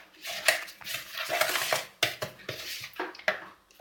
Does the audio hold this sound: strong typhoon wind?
no